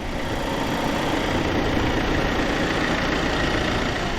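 A 2023 Audi A6 Avant TDI quattro mild hybrid diesel engine idles steadily, with a close, continuous low rumble and a faint diesel clatter running unbroken and alone.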